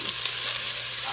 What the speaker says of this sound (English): Put my bell peppers in this pot here that's heating up.